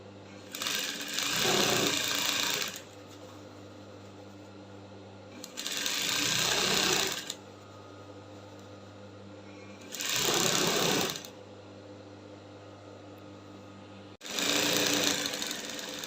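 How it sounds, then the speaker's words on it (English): A sewing machine stitches a seam on a drop shoulder kaftan in four separate bursts of about two seconds each, with quiet gaps between them and the motor whirring close and clear. "So I'm going to sew down now"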